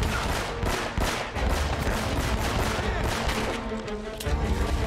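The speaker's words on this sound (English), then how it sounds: "but now we're getting shot at!" Dense gunfire from the video game Uncharted: Drake's Fortune, rapid overlapping shots in a continuous loud barrage with no pauses.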